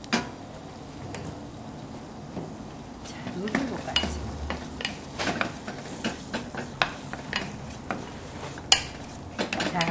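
Flour stirred into melted butter in a pan for a roux, with a steady low sizzle under repeated scraping and clinks of a spoon against the pan.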